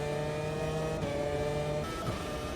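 Renault V8 Formula 1 car engine in the racing game Automobilista 2, a steady droning rev with strong harmonic whine, sustained and loud throughout with a slight shift in pitch near the end.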